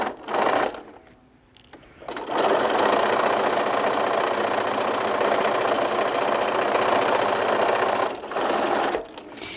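A sewing machine runs steadily while stitching fabric around a curved basket, a continuous close mechanical whir with short stops at the beginning and near the end.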